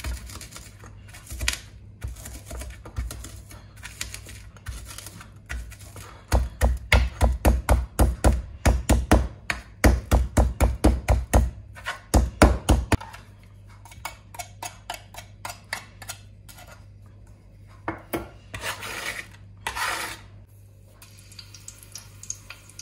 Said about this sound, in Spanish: Les hago un poco con el cuchillo. Con toda mi super fuerza. Y luego los maceo.